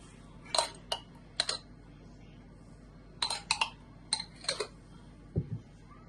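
A metal spoon clinks and taps against a mustard bottle during home cooking of shepherd's pie, with sharp, separate ticks in small clusters and a low thud near the end, in a quiet kitchen.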